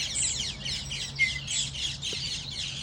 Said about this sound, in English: Just like the sound of these birds.